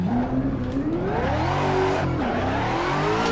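A Mazda Miata engine in the Assetto Corsa racing game revs steadily during VR drifting, a continuous droning tone that rises, dips and climbs again, loud and alone with a faint tire hiss beneath.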